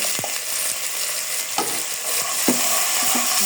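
Cinnamon, bay leaves, cloves, cardamom and chopped onion frying in hot oil for biryani, a steady close sizzle punctuated by sharp clacks of a stirring spoon against the pot.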